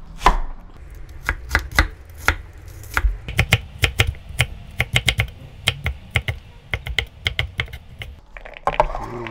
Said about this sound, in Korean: 양파 잘게 다져서 넣고